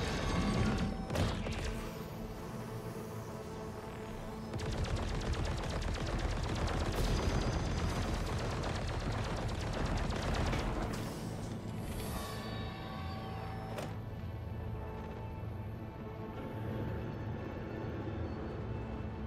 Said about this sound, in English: Thought I was hearing ship weapons.